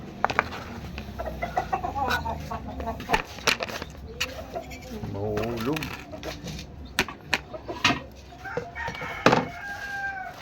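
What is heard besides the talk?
chicken clucking and rooster crowing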